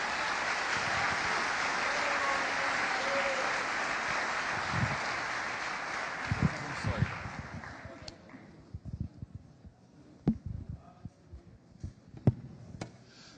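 Church audience applauding to welcome a pastor, steady broad clapping for several seconds that fades out, leaving scattered single claps and thumps.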